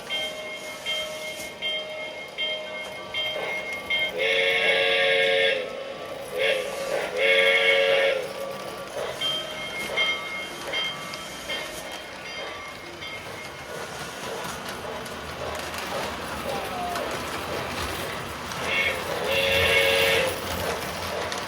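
Model trains run around a theme park layout, giving a continuous mechanical rolling whir. Bursts of bright electronic chimes or horn tones sound at intervals.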